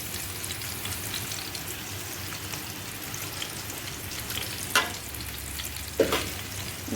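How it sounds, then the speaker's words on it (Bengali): Fish frying in a wok, a dense, steady sizzle with a few sharp spatula scrapes and stirring knocks near the end, close and without talk. "এই কড়াইয়ে ভাজছি আমি"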